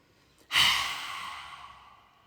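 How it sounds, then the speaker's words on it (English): A single long outward breath during a qigong breathing exercise, a soft close exhale that starts abruptly and fades slowly over about two seconds. "we're going to add into this a nice outward breath because we want to get all of the stale oxygen out of the body"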